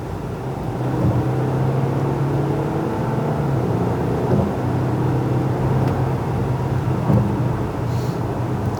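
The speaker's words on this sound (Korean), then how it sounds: "3리터급의 그 디젤 엔진을 탑재하고 있는 만큼 상당히 준수한 그런 가속 능력을 보여줍니다." A Volkswagen Touareg with a 3-liter diesel engine accelerates on a highway, giving a steady low engine drone with road and wind noise, heard from inside the cabin and with no talking.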